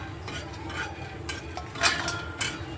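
Lentils (dal) being dry-roasted and stirred in a pan for a spicy chicken curry, repeated scraping and light clinking of a spoon against the metal, moderately close with no talking.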